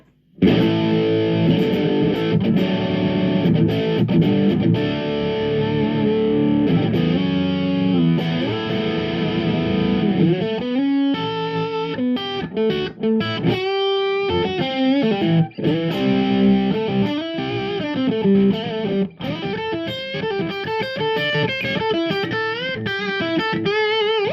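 A distorted Gibson Kirk Douglas Signature SG electric guitar on the bridge pickup, bright and biting, strums chords and then picks busy riffs, loud and steady throughout.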